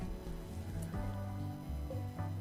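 Steady rain hisses and patters throughout a RimWorld 1.0 scene, mixed under sustained background game music with no talking.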